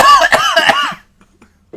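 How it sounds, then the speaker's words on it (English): A single harsh cough bursts out close to the mic on a casual podcast, voiced and rough for about a second, then fades into near silence with a faint stir at the end. "Sorry, I was coughing"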